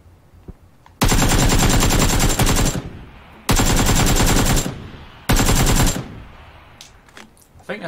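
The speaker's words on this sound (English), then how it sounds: "I think there's someone shooting him in the back" Automatic gunfire in a PS4 squads shooter comes in three loud, sustained bursts with short gaps between them, close and dense, with brief quieter moments in between.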